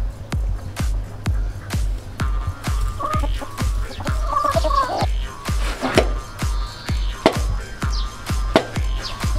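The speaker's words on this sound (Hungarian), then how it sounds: "Figyelj, épp itt vannak a csirkék." Chickens in a video game cluck in short bursts over a steady, thumping rhythmic beat that runs throughout, fairly loud and with no speech.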